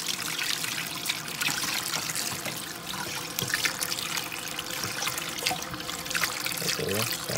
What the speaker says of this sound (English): We're gonna run a little water to wash the inside of the fish out.